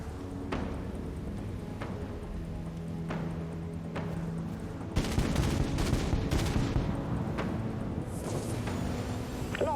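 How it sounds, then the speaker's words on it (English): Missile salvo launching in the space combat game Dread Nothing: a string of sharp, booming bursts over steady engine rumble, growing denser and louder in the second half. "Launching missiles."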